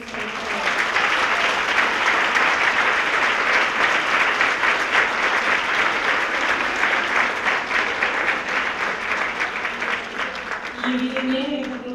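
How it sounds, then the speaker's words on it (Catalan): An audience at a tribute event for women textile workers in Taradell claps loudly and continuously, a dense sustained applause that fades near the end as voices emerge. "Demano un altre fort aplaudiment per l'arxiu fotogràfic i la biblioteca per aquestes coses."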